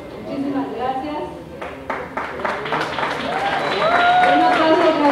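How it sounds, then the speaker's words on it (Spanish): Audience applause breaks out at a live Mexican music performance, mixed with talking and followed by rising crowd noise and sustained musical tones. "Un aplauso otra vez para ellos"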